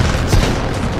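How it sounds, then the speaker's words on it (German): A loud, dense burst of rumbling blast noise fills the whole second, booming low and steady like an explosion in Titanfall 2, with no pause or fade. "Bevor die Testumgebung der Feindwaffe explodiert."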